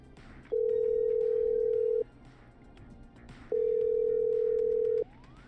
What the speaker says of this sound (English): I'm dialing.